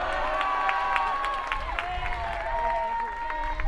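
A crowd at a 2012 KSHSAA 3A high school baseball championship game cheers and claps steadily, with shouts and whistles over a dense wash of noise, and voices mixed in throughout.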